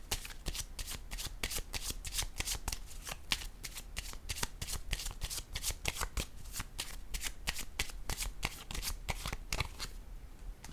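Tarot cards are shuffled close by in a rapid run of crisp riffling bursts, with quick snaps and taps as cards are handled and laid down, ending in a brief quieter moment.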